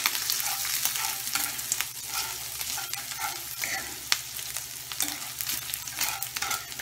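Onion and bacon sizzle and crackle as they start to burn in a frying pan, a dense continuous fry with scattered pops and occasional stirring scrapes, close and moderately loud.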